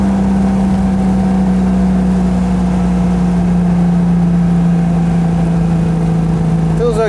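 Citroën 2CV with a freshly rebuilt engine climbing a hill under moderate throttle, a steady droning flat-twin hum heard from inside the car, loud and constant with no pauses.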